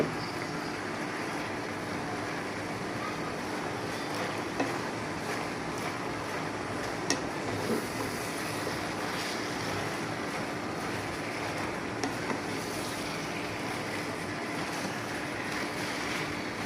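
Malabar spinach sizzling in a pan of frying fish heads, producing a steady, dense hiss that continues throughout with a few faint clicks and no talking.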